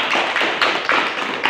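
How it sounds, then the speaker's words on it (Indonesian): An audience at a pastor's religious gathering claps together, a loud, close burst of hand claps pulsing in a steady rhythm. "Tepuk tangan dulu buat Tuhan."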